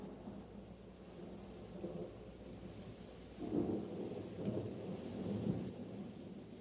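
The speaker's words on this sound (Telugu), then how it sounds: "మన ముందు తుఫానుంది చూడు." A thunderstorm in an audio drama setting: steady rain hisses throughout while a deep, rolling thunder rumble swells in the middle and lingers, with no voices.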